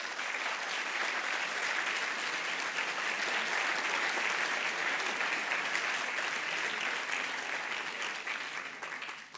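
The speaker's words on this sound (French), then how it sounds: "Et pour ça, je crois qu'on peut vous applaudir." Sustained, dense applause from a lecture audience at a physics talk, steady and full for several seconds before beginning to taper off, with no talking over it.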